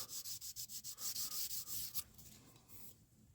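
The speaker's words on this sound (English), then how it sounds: "I use a piece of 320 grit. Use sandpaper" Sandpaper of 320 grit rubs inside the flute of a spindle roughing gouge in quick, rhythmic back-and-forth strokes, close and fairly loud, then slows into softer scrubbing with no talk.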